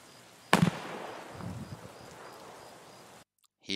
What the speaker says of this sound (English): That's the sound of a Mosin Nagant sniper rifle